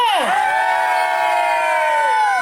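An audience at a carnival show shouts and cheers loudly, with high, sustained voices from a crowd, many of them girls, blending into one continuous roar close by.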